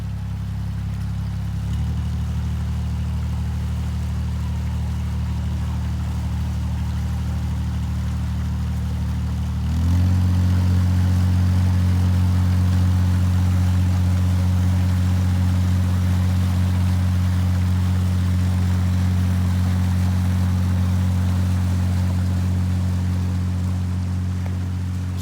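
A narrowboat's diesel engine chugs steadily on a canal while towing a second narrowboat, a low, constant throb that rises and grows louder about ten seconds in, then holds near and loud to the end with no talk.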